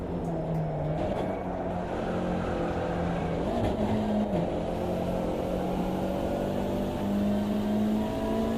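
A race car engine in a sim racing game drones steadily at high revs, pitch dipping briefly through a corner before climbing again, loud and continuous with no voices.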